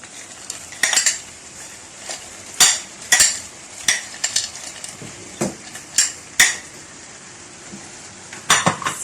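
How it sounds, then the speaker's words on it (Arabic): A spoon scrapes and clinks against a pan while stirring paella Valenciana with seafood, mushrooms and greens. Sharp metallic knocks come in irregular bursts over a soft background sizzle, close and without talk. "وغنستمر في التحريك"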